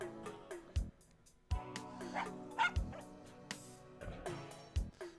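Bark after bark from a dog in The Journeyman Project video game, a series of sharp, distinct barks and yips repeating at a steady rhythm, moderately near and clear with no talk over them.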